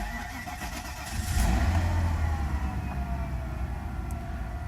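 A Mercedes S320 starts up: a brief cranking, then the engine catches about a second in and settles into a steady, close idle that holds to the end with no talking.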